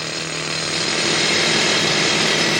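A rock drill roars at a tunnel construction site during a waterway tunnel expansion, a loud, dense, continuous grinding noise that holds steady throughout.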